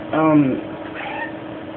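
A house cat in heat gives one odd, drawn-out meow with a wavering pitch, fairly close and loud, followed by quieter background sound.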